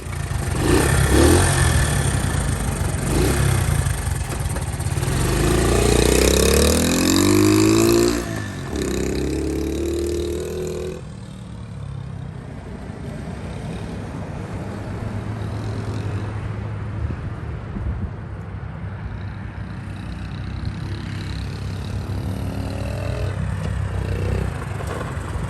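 A Honda CT70 motorcycle engine runs continuously during a ride, revving and rising in pitch through the gears early on, then settling into a steady, moderately loud drone with wind noise.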